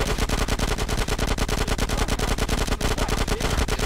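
Rapid, unbroken automatic gunfire from GTA San Andreas Remastered with infinite ammo, a loud dense burst of shots running steadily for the whole stretch with no talk over it.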